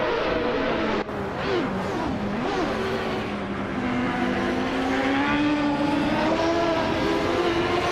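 Race cars speed through a racing video game, engines revving and whining with rising and falling pitch as they accelerate and pass, loud and continuous with one sharp click near the start.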